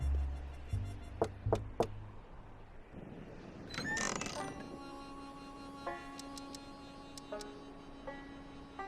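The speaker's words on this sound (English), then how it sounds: "Knock on the door." Knocking on a door in the Back to the Future video game: a few sharp raps in quick succession, followed by creaking and mechanical ticking sounds with faint chiming tones.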